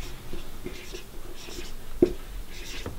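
A red pen scratches across paper in short, quick strokes with brief pauses between them, close and fairly quiet, with faint breathy sounds in the background.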